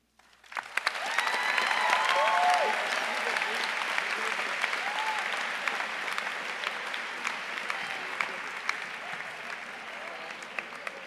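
Sustained applause from a sizable crowd at a high school graduation ceremony, starting abruptly and holding steady at full strength before easing slightly, dense clapping throughout.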